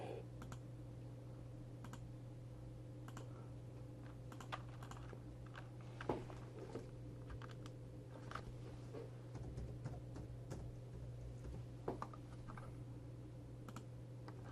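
Code being typed into MATLAB on a computer keyboard: quiet, irregular key clicks in short bursts over a low steady room hum.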